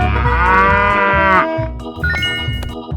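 A cow in a 3D animal video game gives one long, loud moo lasting over a second, followed by game sounds and light chimes.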